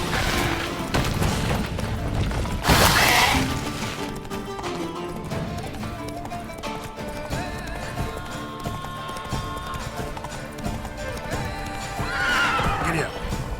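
A horse in The Witcher 3 snorts and whinnies loudly, then its hooves clip-clop steadily while game sounds and a voice come through, and a second whinny rises near the end.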